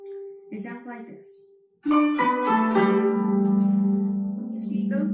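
Guzheng strings sounded in the water-flow technique, fingers turned backwards from thumb to ring finger; a short hum precedes a bright cascade of plucked strings that rings on, sustained and close.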